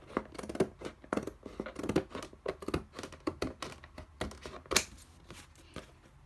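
Scissors snip repeatedly through a cutting mat made for an electronic cutter, a close, quick series of crisp cuts with small rustles between them.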